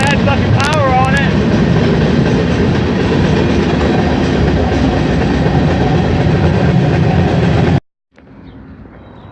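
A freight train rolls past on the rails, loud and close, with a steady rumble and rattle of cars, a brief screech early on, then cuts off abruptly near the end before a faint hush returns.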